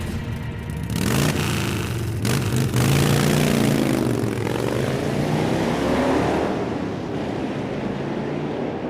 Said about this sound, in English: motorcycle engines revving in the distance